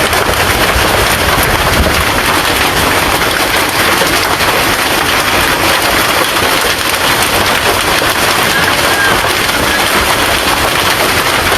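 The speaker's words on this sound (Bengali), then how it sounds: "কত শিলাবৃষ্টি হচ্ছে দেখেন একদম রাস্তা ভরে গেছে" Hail pelts a road during a storm in Sylhet, a dense, steady roar of hard impacts that continues loud and unbroken throughout, with no voices.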